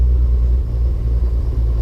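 A 1939 Plymouth Mayflower sedan pulls in at low speed, its engine a steady, close, deep rumble with no voices over it.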